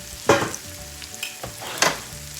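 Onions frying in a hot pan, a soft steady sizzle broken by a few louder hissing bursts as they are stirred, close and without talk.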